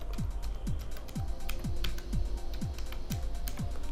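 Web address typed on a computer keyboard, rapid close key clicks in an irregular run, over a steady low hum with a repeating swooping tone.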